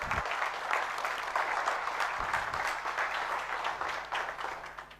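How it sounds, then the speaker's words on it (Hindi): Audience applause at a network marketing business event, a dense and even round of clapping that holds steady across five seconds and eases off slightly near the end. "तो क्या इस प्लेटफॉर्म के लिए हम एक जोरदार ताली बजा सकते हैं?"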